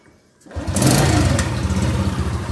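A 1995 Honda Grand Impressa motorcycle engine cranks and catches after a brief quiet moment, then settles into a steady, rumbling idle close by.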